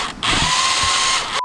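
Power drill whirring steadily at close range after a brief start, its motor held by hose clamps as part of a makeshift life hack, running nearly continuously for over a second before cutting off.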